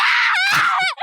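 Short, piercing scream from the anime Oshi no Ko, loud and close, rising then breaking off abruptly with a brief tail.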